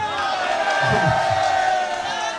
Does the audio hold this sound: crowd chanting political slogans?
yes